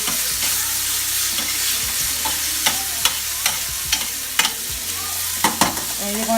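Cajun chicken and vegetables heating in a pan for an Alfredo dish, a continuous close sizzle broken by repeated scraping and clacking strokes of a utensil against the pan, no voices.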